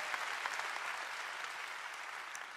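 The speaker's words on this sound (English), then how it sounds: "Shall we give the Lord a big hand clap," A church congregation claps their hands in praise, a dense, even roar of many hands heard from some distance in a large room, sustained steadily with no speech over it.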